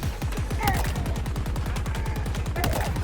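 A weapon in Halo Infinite fires in a fast, steady burst of rapid shots that runs through the whole moment. Faint game sounds sit behind it.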